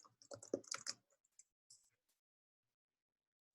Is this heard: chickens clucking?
no